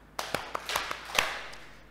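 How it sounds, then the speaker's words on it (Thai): An audience claps in a church service, a few separate sharp hand claps spaced out and fairly quiet in a room, with no talking over them. "그 말을 순종하고 그 말을 순종해서 박수를 3번 쳤습니다"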